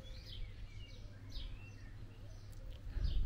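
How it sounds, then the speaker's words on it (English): Small birds chirp and tweet intermittently, faint and somewhat distant, over a low background rumble in a quiet cottage garden. "as you can hear, it's a quiet location except for the birds"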